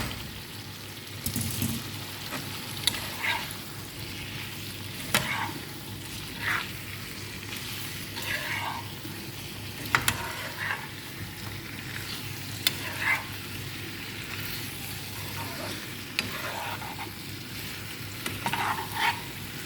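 Pre-fried chicken being stirred through a Korean-style sauce in a pan: a steady low sizzle with intermittent scraping and clinking from a utensil, spaced irregularly across the whole stretch.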